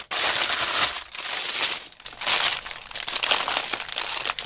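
Last plastic bag from a Lego set is crinkled and torn open, giving loud, close crackling bursts of plastic in several bouts separated by short pauses.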